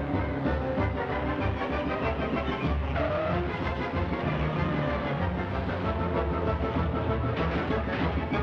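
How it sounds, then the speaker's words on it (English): Early racing cars roar past in a cross-country race in Ireland, a loud, continuous engine wail with muffled, band-limited old-recording quality and no talking. "Once a year, Ireland's peace and quiet is broken by these wailing banshees."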